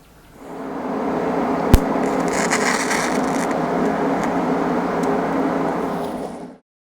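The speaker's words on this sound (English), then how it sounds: "So, time to TIG weld it." Steady buzzing hiss of a TIG welder on a steel welding cart frame, even and continuous for several seconds with one sharp click near the start, then cutting off abruptly; no voices.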